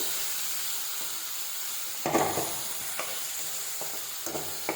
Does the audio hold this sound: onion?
yes